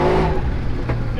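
Ford Fox body car engine revving hard while drifting at a car event, loud and close, a brief burst of throttle that drops off and surges again with a rough, grumbling tone.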